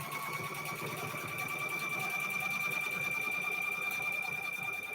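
A sewing machine stitches a quilt in one steady, continuous run, its motor whirring with a fast rapid needle chatter, close and alone.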